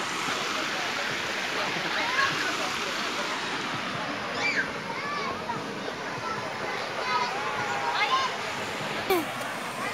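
River water rushes and burbles continuously nearby, a steady flowing stream sound with faint voices in the background.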